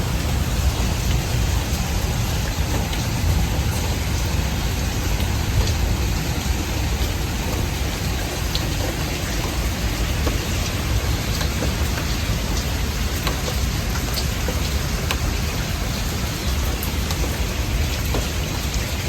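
Steady, dense rainfall pours down continuously, a broad hiss with scattered drops pattering on surfaces nearby, no voices, with thunder rumbling.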